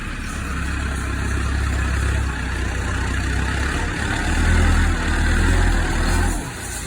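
A tractor engine runs steadily while soil is filled with trolleys at a village site in Pakistan, a loud, close, low rumble that swells briefly toward the end before easing.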